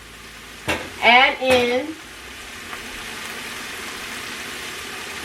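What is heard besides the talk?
chicken sausage sizzling while cooking in pan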